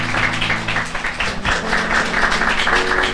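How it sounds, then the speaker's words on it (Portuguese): A church congregation claps together in a loud, continuous burst of applause, the hand claps dense and close, with faint music tones beneath. "Dê uma salva de palmas a Jesus."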